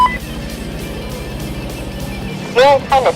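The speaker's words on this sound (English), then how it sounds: "Okay, let's see how this car's gonna handle." A race car drives on a track, its engine a steady, loud drone throughout, with a person speaking near the end over the running motor.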